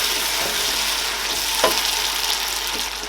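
Steady frying sizzle of tomato sauce in a pan as an egg goes in, one brief splashy crackle in the middle and continuous hiss throughout, close and fairly loud with no talking.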